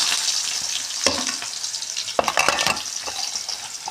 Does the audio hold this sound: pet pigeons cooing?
no